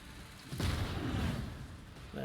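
An incendiary ignites in the Rogue Trader video game, a sudden loud whooshing burst followed by a roiling, crackling rumble of fire that sustains for a couple of seconds.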